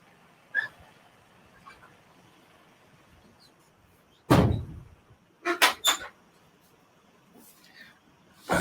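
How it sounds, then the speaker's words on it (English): An indoor door being closed, a loud close thud followed by a few quick knocks and rattles as it settles, with quiet room background between. "I'll just close the door."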